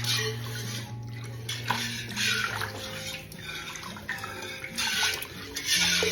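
Milk pours into a metal pot in a steady gurgling stream with faint clinks of cookware, close up and without speech.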